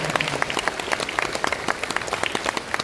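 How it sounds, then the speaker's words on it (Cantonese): An audience applauds at a primary school graduation ceremony, giving a lively, steady patter of many hands with distinct individual claps standing out throughout. "我亦係希望大家藉住大家嘅掌聲，再次多謝我哋兩位主任帶領我哋全個團隊嘅"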